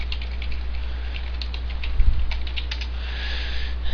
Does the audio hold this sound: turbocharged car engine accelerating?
no